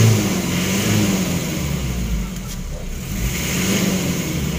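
A car engine with sluggish RPM and a smoky running condition revs in a continuous low, rumbling drone that dips slightly midway and then swells again.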